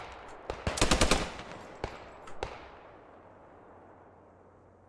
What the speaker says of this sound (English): That sounds like an MG42 right next to me.